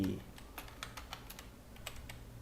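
Fingers tap out a short run of soft, irregular keystrokes on a computer keyboard, close and quiet, over a low steady background hum after a brief voice at the start.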